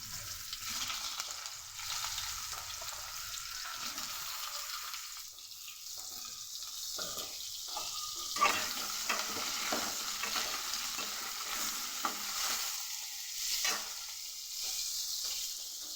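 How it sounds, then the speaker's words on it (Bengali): Eggplant and potato pieces fry in the leftover oil of a kadai that was just used for frying fish, giving a quiet, steady sizzle broken by scraping stirs, with no talking. "ওই কড়াইয়ের মধ্যেই বেগুন আর আলুটাকে ভেজে নেব"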